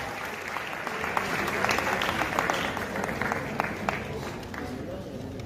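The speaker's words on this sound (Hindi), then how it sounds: "एक बार पुनः तालियों का संघनाद" Steady applause from a crowd at a Shri Bharatvarshiya Digamber Jain Mahasabha ceremony fills the whole stretch, dense clapping with a few sharper claps standing out, a voice faintly underneath.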